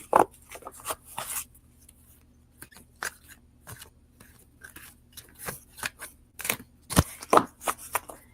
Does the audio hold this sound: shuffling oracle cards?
yes